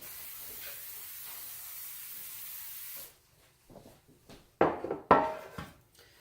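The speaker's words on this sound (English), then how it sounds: "I need to spray my bread pan." Cooking spray on a bread pan gives a steady hiss for about three seconds, then stops, followed by a few soft clunks and knocks of handling nearby.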